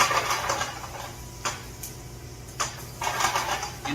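Garlic and onions sizzling in a pan, a steady broadband hiss with a few sharp clatters of utensils or cookware, near and fairly loud, no talk.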